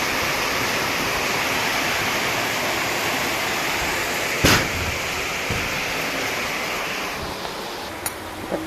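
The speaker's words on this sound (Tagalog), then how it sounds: "lakas ng ulan" Heavy rain pours down in a dense, continuous roar, with a couple of brief sharp knocks breaking through near the end.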